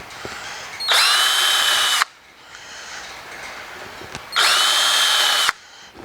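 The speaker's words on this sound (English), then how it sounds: "So I'm going to countersink each one of these just a little bit." A power drill countersinks screw holes in two loud, steady whirring bursts of about a second each, separated by quieter handling pauses. Heard up close, with no talking.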